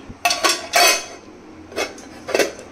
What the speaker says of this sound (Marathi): तर आता झाकण ठेवणार